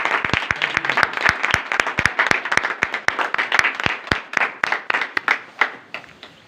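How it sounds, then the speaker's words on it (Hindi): A church congregation claps loudly, with sharp, distinct hand claps in a fast, uneven rhythm that gradually thins out and fades toward the end. "हम जोरदार ताली में खुदा के कलाम को और खादम को वेलकम करते हैं।"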